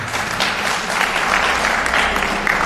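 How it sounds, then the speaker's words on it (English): A crowd applauds at a G20 civil society national conversation, a dense, loud wash of clapping from many hands filling the whole short stretch with no speech on top. "our country deserves a round of applause"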